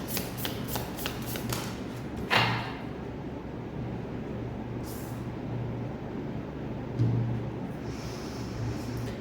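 Tarot cards shuffled close by in quick riffling bursts near the start, then a couple of isolated card slaps against a steady low hum, with no talking.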